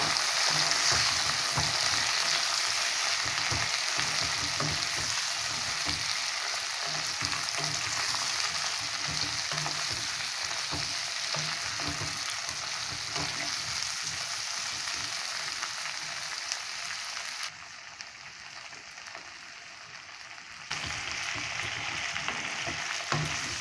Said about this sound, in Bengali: এবার আমি ছোট করে কাটা ফুলকপিগুলোকে এটাকে একটু ভাজতে দেবো।